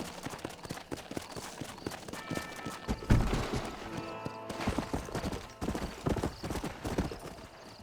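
Horse hooves gallop in a rapid clip-clop rhythm while riding in Red Dead Redemption, fairly quiet and continuous, with a brief whinny-like burst partway through.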